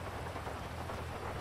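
Rain in a video game falls as a steady, dense patter with a low rumble beneath it, constant throughout and moderately quiet.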